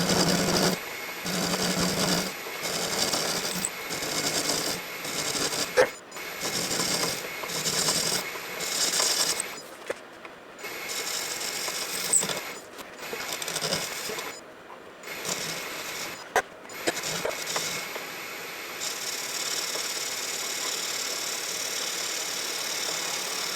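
Metal lathe turning a steel mandrel for a miniature petrol engine, a continuous grinding, scraping cut with a motor hum underneath, close by, broken by several pauses and restarts.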